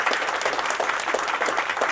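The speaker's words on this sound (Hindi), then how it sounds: "जोरदार तालियों की गड़गड़ाहट हो जाए दोस्तों" Steady, fairly loud applause from a crowd at an awards ceremony welcomes the chief guest, a dense unbroken wash of clapping throughout.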